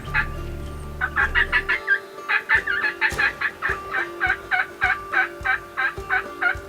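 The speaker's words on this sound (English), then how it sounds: "Can you see them? The turkeys." Wild turkey tom gobbling on a hunt, a rapid run of repeated gobbles and clucks at close to moderate range, steady and loud throughout with no speech.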